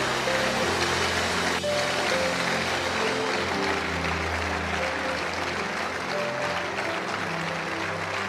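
A church congregation claps loudly and continuously during a sermon, a dense sustained wash of applause with no break, and a voice comes through faintly beneath it.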